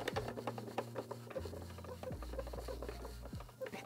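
Someone scrubs a vintage Polly Pocket toy with a soft rhythm of close rasping and rubbing strokes over a low, steady hum. No voices are heard.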